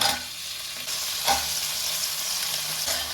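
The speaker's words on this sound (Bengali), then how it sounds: "এবার পেঁয়াজগুলো দিয়ে একটু ভালো করে ভাজা করতে হবে" Onions fry with butter and chopped garlic in a pan, giving a steady, close sizzle with brief stirring scrapes.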